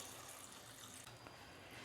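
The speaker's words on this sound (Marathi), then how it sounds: "ह्या भांड्यात ह्या मी शेंगा टाकते आणि शेंगा बुडतील इतपत मी पाणी घालते" Water pours steadily into a pot of drumstick pods in a home kitchen, a continuous close, moderately quiet splashing rush with no talk.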